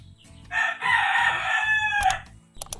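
A pet rooster crows once, close and loud, with a long drawn-out call. Low clucking from the chickens runs underneath, and a few short sharp sounds follow near the end.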